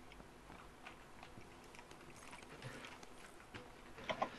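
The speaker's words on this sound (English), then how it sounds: "I hear footsteps. He's behind us." Faint footsteps in PUBG, soft irregular taps and scuffs of a player moving nearby, low in level under background ambience, with a couple of sharper clicks near the end.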